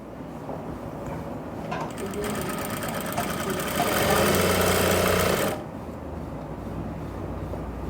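Sewing machine running a half-inch stitch along a folded pant hem at a tailoring class, a steady whirring burst of several seconds that rises to a loud peak before stopping, with talk and background noise around it.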